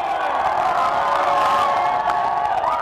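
A large crowd cheers loudly as South Sudan's new flag is raised at its independence ceremony. Dense, continuous shouting and whooping fill the whole stretch, with scattered clapping mixed in.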